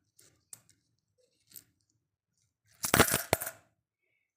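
A few faint taps come first, then a burst of metallic jingling and clattering as mixed coins are stirred in a storage box at home, close and fairly loud, ending in a final click.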